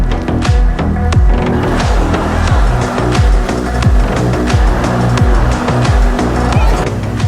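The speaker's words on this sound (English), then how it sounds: "Listen to that engine scream" A car in GTA 5 screams at high revs while its tires spin in a burnout on a steep ramp, producing a loud, repeating rising engine whine in rapid cycles with constant tire roar.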